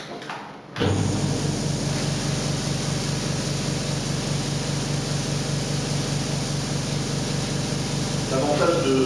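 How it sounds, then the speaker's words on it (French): Disinfection nebulizing machine running indoors in a room, a steady loud hiss and hum with a fine rhythmic pulse, starting abruptly after a click and continuing unbroken to the end. "appuyer ici sur le carré vert qui en fait démarre la nébulisation pour la pièce"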